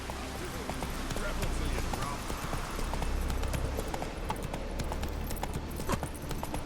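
Rhythmic hoofbeats of a ridden horse clip-clop steadily at a trot or canter in The Witcher 3 video game, fairly close and loud, with game noise and a voice heard over it.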